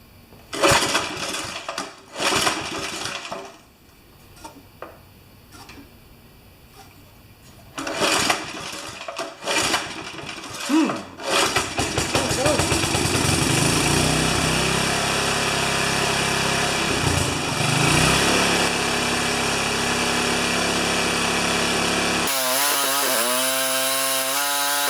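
A 1973 Briggs & Stratton small engine, just fitted with a Pulsa Prime carburetor, sputters and catches after a few false starts, then settles into a loud, steady run for several seconds before cutting off abruptly.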